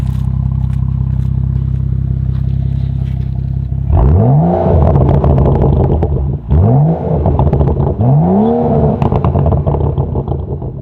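A BMW M235i with its muffler deleted, driven in Sport Plus mode: the engine idles with a low rumble, then revs hard three times with rising, loud exhaust blasts and crackle, close and without speech.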